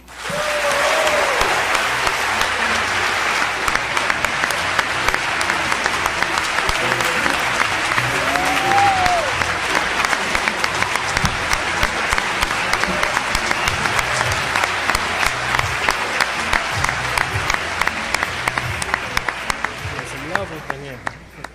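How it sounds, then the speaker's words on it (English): An audience at the Princeton Hip-Hop Symposium gives Talib Kweli long, loud, sustained applause, a dense wall of clapping with whoops and voices mixed in, lasting about twenty seconds before tapering off. "Please give a round of applause for who I believe to be a prophet amongst men, Talib Kweli"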